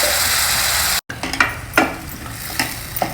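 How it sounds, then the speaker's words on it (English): Coriander, green chili and ginger paste frying in a pan, first a loud steady sizzle that cuts off abruptly, then stirring scrapes and bubbling pops over a softer sizzle, with no talking. "Now fry this paste till most of the moisture has gone"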